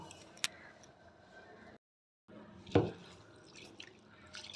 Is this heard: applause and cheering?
no